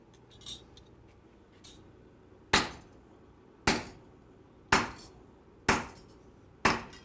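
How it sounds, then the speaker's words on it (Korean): A hammer strikes a silver bar resting on dry ice: five loud, sharp metallic blows about a second apart, each with a short ringing decay, after a couple of fainter taps. "한번 망치로 내려치면은 깨지는지 안 깨지는지 테스트를 실험을 해달라고 해가지고 저희가 해봤는데"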